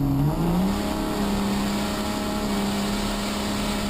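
Race truck engine from Bully Dog Technologies revving hard, a loud sustained roar that climbs in pitch at the start and then holds high and steady.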